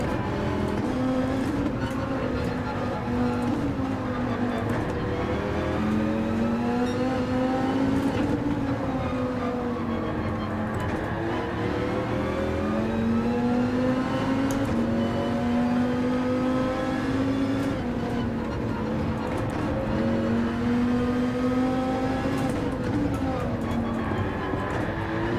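Dodge Viper GTS-R Gr.3 race car in Gran Turismo 7 at the Deep Forest circuit, a steady loud engine drone with rising and falling pitch through gear changes, running continuously under occasional talk.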